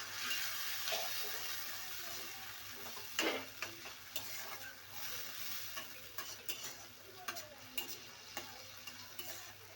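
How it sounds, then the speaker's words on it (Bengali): Prawns frying in hot oil over onions for a kochu shak and prawn dish, a steady close sizzle with intermittent scraping and stirring clatter from a spatula, no voices. "চিংড়ি মাছটা লাল লাল করে ভেজে নেবো এর উপরে, তেলের উপরে, পেঁয়াজের উপরে।"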